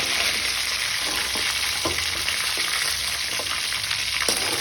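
Fish shallow frying in oil in a pan, a steady, loud, close sizzle with soft crackles and occasional pops throughout, with no voices.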